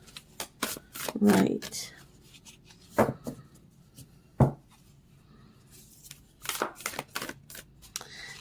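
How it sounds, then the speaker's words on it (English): Tarot cards are shuffled in short riffling bursts spread across the clip, close by, with a person talking between and over the shuffles. "So while I'm shuffling"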